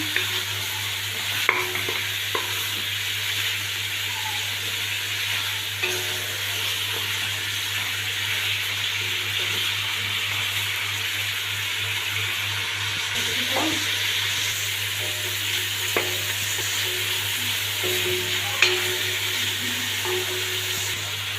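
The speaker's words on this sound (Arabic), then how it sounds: "ونضيف اللحمه ونديها تشويحه كده، نديها تشويحه" Meat sautéing in a hot pan, a continuous sizzle and fry with occasional stirring scrapes and clinks close up, steady throughout with no talking.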